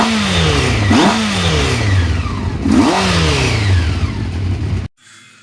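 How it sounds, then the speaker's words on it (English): Race bike engine revving hard in two loud rising-and-falling sweeps, each climbing sharply then dropping back, before cutting off abruptly near the end. "The race bike lives once again."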